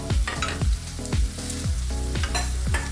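Leaves fry in a pan with turmeric and ginger paste, giving a continuous sizzle broken by repeated scraping strokes of stirring.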